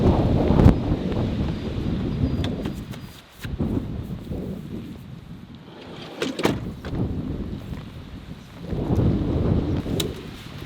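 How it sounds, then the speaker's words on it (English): Wind gusts buffet the microphone outdoors in a rainy, windy spot in Canada, a broad steady roar that swells and dips with brief sharper bursts throughout. "Too bad it's raining and very windy."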